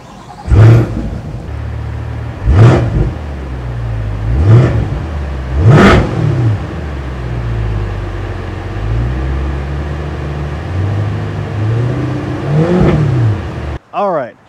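A 2022 Chevy C8 Corvette 2LT with a 6.2-liter naturally aspirated V8 in sport mode revs in five sharp blips, each a loud snarl rising and falling, with an idling rumble between them.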